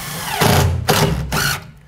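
Power drill driving a self-tapping metal screw through board into a metal stud on a steam room ceiling, three loud close bursts of high whining motor with a brief pause between each.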